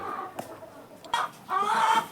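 Laying hens on a poultry farm cluck in a few short, close bursts, with a louder flurry of clucking toward the end against quiet barn background.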